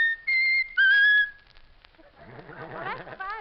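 A bird whistles a short tune: a few clear, steady whistled notes close up, followed by warbling, wavering chirps at the end.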